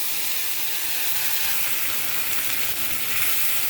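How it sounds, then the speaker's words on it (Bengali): Radhuni and ginger paste frying in hot oil and ghee with five-spice and bay leaf in a Bengali kitchen, a loud, steady, unbroken sizzle and hiss. "তারপরে আমি দিয়ে দিলাম রাঁধুনি আদা বাটা তেলের মধ্যে।"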